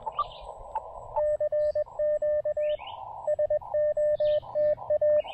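Morse code CW calling CQ on the 17-meter ham band, a steady tone keyed in short dits and long dahs with brief gaps, close and clear over a low background hiss.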